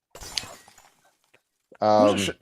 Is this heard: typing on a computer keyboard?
no